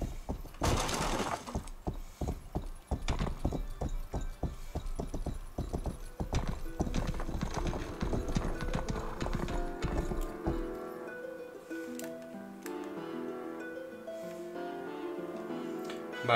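Galloping hooves and a horse's whinny in a medieval video game, a dense rapid clatter of hoofbeats with crashing and breaking noises, then music takes over near the end.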